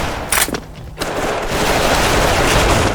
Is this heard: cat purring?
no